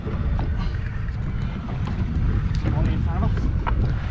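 A fishing boat engine idles in reverse, giving a steady low rumble throughout with wind buffeting the microphone over it.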